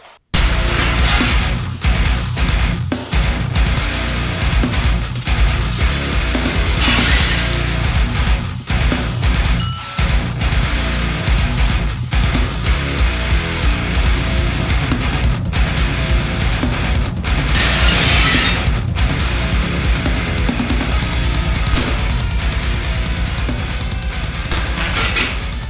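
Plate glass panes shattering and breaking, loud dense crashes and tinkling shards repeating throughout, with sharp impacts near 7 and 17 seconds and no talk.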